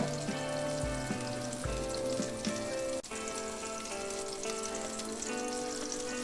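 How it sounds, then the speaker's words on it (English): Butter and olive oil sizzle steadily in a hot pan on the stove, a continuous crackling hiss with a few soft pops and small knocks, close and fairly loud, with no talking. "I have some butter melting here in my pan. I'm gonna add a little bit of olive oil."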